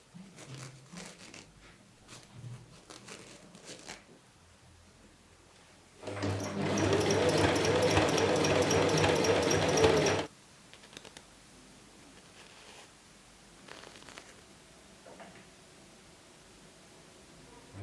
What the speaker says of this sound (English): I'm gonna top stitch it by sewing between the 2 rows of gathering stitches